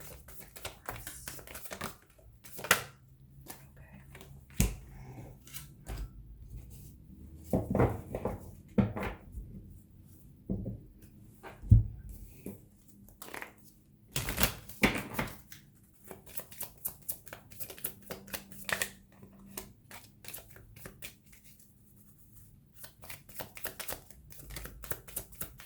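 Tarot cards being shuffled by hand in bursts of riffling and soft slapping, with quiet pauses between and faint rustles throughout, close and moderately soft.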